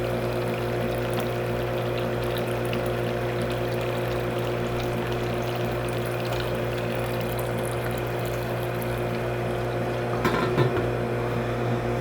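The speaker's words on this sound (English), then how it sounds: "we have our HLT pump running as well, just to recirculate" A pump on a 20-gallon HERMS brewing system hums steadily as it recirculates water through the coil in the hot liquor tank, a constant low drone with a watery wash over it throughout.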